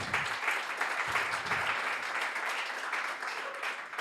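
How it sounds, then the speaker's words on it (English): An audience applauds a panel of judges at a pitch competition, steady dense clapping throughout, moderately loud and uninterrupted by speech. "And let's give a round of applause."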